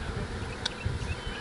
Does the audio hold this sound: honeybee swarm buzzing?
yes